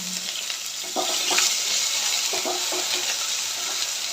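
Finely chopped potato frying in a pan with chillies, a continuous close sizzle that swells after the first second, overlaid with intermittent scraping and stirring knocks, no voices.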